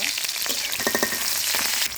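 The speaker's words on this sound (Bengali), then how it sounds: "কড়াইয়ের মধ্যে দিয়ে দিলাম তেল তেলটা গরম হয়ে গেছে এখন আমি পেঁয়াজ দিয়ে দিব" Chopped onions fry in hot oil in a wok, with a steady bright sizzle and occasional stirring scrapes running throughout.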